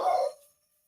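A single dog bark, loud and close, one short burst that quickly fades into silence.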